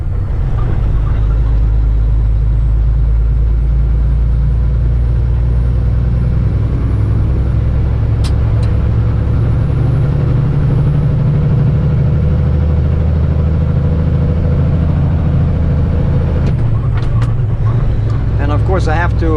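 A car engine rumbles steadily from inside the cabin while driving through city traffic and up a hill, holding a deep, even drone that shifts slightly as the revs change and gears are swapped near the end.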